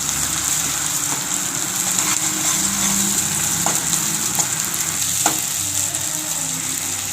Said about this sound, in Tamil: அதனால் இந்த மசாலாவை இந்த எண்ணெயிலே நல்லா வதக்கி விட்டுக்கலாம்.